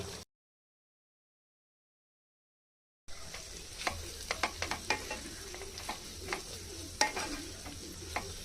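Chopped carrot stirred into fried eggs in a hot pan for chicken chowmein: after a short silence, a close steady sizzle with many quick clinking and scraping stir strokes, no voices.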